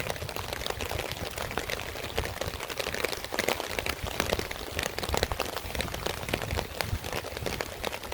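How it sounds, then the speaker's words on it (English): Steady rain patters across a surface at a dispersed campsite in Michigan, a dense, even hiss of drops lasting throughout with no voices. "Little rain."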